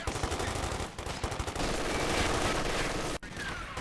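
Sustained suppressing fire from a .50 cal heavy machine gun in Company of Heroes 2, a steady loud rattle of rapid rounds with brief gaps and one sharp break near the end.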